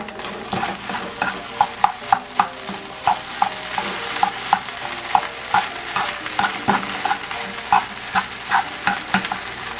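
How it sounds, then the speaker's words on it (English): A rice mixture seasoned with black pepper and salt is stirred in a hot pan, with steady, rhythmic scraping strokes over a continuous sizzle, close and fairly loud, with no talking. "I'm just going to mix this all up."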